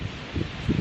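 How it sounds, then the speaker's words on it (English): Gusty wind buffeting a microphone outdoors, a steady low rumble with stronger bursts around the middle and end of the short stretch, no voices. "It's pretty damn windy."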